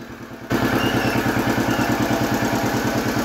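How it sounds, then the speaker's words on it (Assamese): A tractor engine runs steadily at close range, giving a loud, even chugging rumble with rhythmic clatter that begins abruptly after a quieter half-second start. "ট্ৰেক্টৰৰ চাউণ্ডনো কিমান শুনিব"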